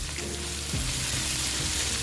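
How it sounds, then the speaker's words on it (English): Long beans frying in a pan for a chicken noodle stir fry, a steady close sizzle with a brief stirring scrape partway through, no talking. "Let's fry the long beans for 2 minutes"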